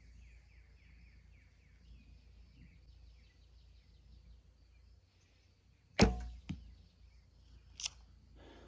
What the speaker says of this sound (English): This bow is so nice to shoot.